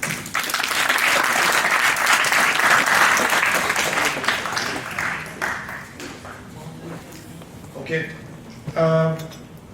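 Seated audience at a keynote talk on money claps for themselves. Loud, dense applause runs for several seconds, then thins out and fades as a voice starts speaking over the last scattered claps.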